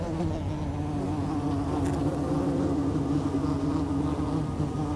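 Ground-nesting bees buzz steadily in the Atacama desert, a continuous close drone with a low hum that holds even throughout, no voices present.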